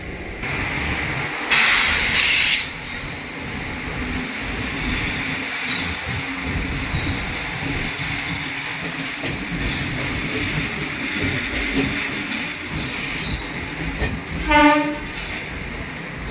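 Bandikui–Bareilly passenger train running steadily on the rails, a continuous broadband rumble with rhythmic wheel clatter throughout and a brief louder burst near the start, with no talking.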